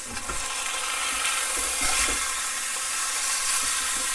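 A chuck roast sears in a black iron pan, giving a loud, steady sizzle and spatter that holds throughout, with a few faint scrapes and no speech.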